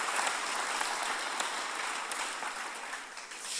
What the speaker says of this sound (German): Vielleicht geben wir ihm nochmal einen richtig, richtig mächtigen Applaus.